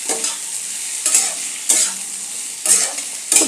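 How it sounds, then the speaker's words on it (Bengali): Potato and ridge gourd pieces sizzle in oil, a steady close frying hiss broken by four or five louder bursts as the pieces are stirred and turned, no talking. "তেলের মধ্যে দিয়ে দিয়েছি আলু ঝিঙে, এটাকে একটু ভালো করে ভাজবো।"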